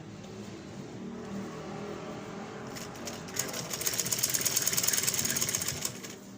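Midway through, a sewing machine stitches a ladies' shirt sleeve cuff with a fast, rattling burst of stitching. Before that, only a low background murmur is heard.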